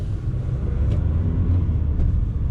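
A Hyundai Accent Blue car with a 1.6 CRDi 136 hp diesel engine gives a steady, close, low rumble that holds level throughout, with no talking.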